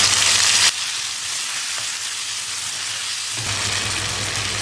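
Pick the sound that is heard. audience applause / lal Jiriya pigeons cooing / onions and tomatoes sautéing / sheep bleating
onions and tomatoes sautéing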